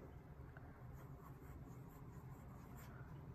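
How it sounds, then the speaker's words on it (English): A rose gold fountain pen with a medium nib writing on paper, a faint, close scratching that runs continuously at low volume. "Oh, this pen writes beautifully."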